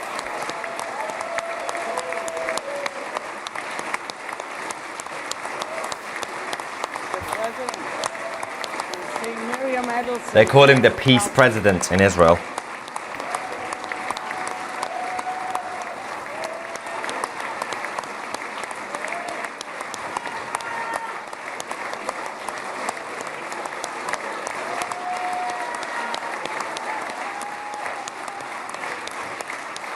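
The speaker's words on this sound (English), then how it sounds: "It's been 84 years since they started clapping." Long, steady applause from an audience in Israel greeting Trump's arrival, continuous clapping throughout with a brief louder burst midway and a voice talking over it.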